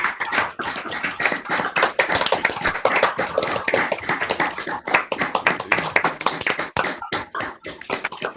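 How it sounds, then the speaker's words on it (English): Several people clap for a speaker over an online video call after a talk, sharp uneven claps from a handful of unmuted participants, loud and close, overlapping with slight digital choppiness. "If everybody wants to unmute and give John a clap"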